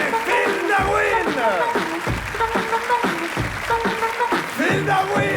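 An audience applauds comedian Phil Darwin at a Paris comedy show, a loud continuous wash of clapping with music or a voice riding over it.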